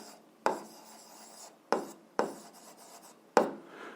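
Equation written by hand, likely with chalk or marker: four distinct tapping strokes followed by short scratchy scraping, close and quiet with no talking.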